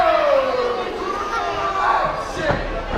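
A wrestling crowd packed into a high school gym roars and chants in a continuous, loud wash of voices, while a commentator talks over the noise.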